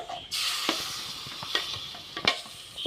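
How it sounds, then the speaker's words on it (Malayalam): Kashmiri chili powder frying in hot oil for a fish curry, a steady close sizzle with intermittent spoon scrapes and taps in the pan, no voices. "കാശ്മീരി മുളക് പൊടിയൊക്കെ ഇട്ട് എണ്ണയിലൊക്കെ നല്ല മൂത്ത് വന്നിട്ടുണ്ട്"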